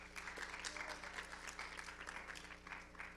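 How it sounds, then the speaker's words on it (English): A pageant audience applauds all nine contestants with a steady burst of clapping set over a low, constant hum. "Let's give another round of applause for all 9 of our contestants"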